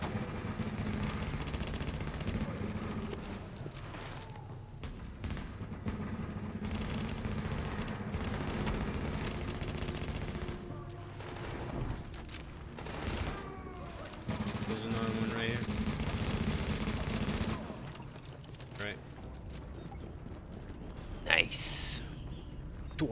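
Near-constant gunfire from a firefight in the video game The Division, with dense overlapping shots and bursts throughout and occasional sharper cracks, mixed under steady game noise and people talking.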